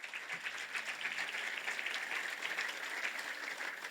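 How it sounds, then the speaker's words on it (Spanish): A church congregation applauds during an online worship service, a steady, dense wash of clapping that holds for the whole stretch with no voices over it. "¿Por qué no le da un fuerte aplauso al Señor?"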